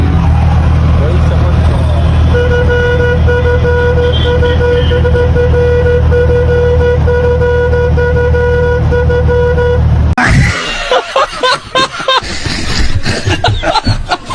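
An auto rickshaw's horn sounds on a national highway, a steady tonal honk held loud and close for about ten seconds over rumbling engine and road noise, then breaking off into choppy wind and traffic bursts.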